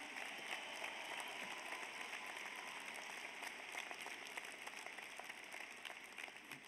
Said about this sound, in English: Let's have a big round of applause for Secretary Johnson.